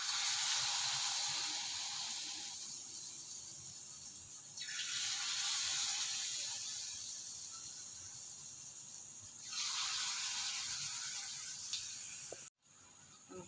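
Mysore bonda frying in hot oil, a steady bright sizzling hiss that swells and fades in waves over a long stretch, close and continuous, ending with a brief clunk.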